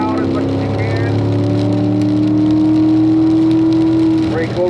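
A car accelerates hard on the Spring Mountain race track in pouring rain, its engine note loud and steady as it climbs, with a rushing wet background and an instructor's voice talking over it.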